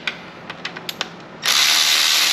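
Ratchet snugging down bolts on a 4G63 engine: several quick, separate clicks, then a longer continuous buzzing ratchet run that cuts off at the end.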